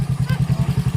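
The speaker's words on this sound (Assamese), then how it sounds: "এয়া বাইক চলোৱা প্ৰেক্টিচ দি আছে" A motorcycle engine during bike-riding practice gives a close, rapid, regular low thumping, with a person talking over it.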